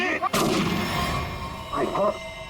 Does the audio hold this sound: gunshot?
yes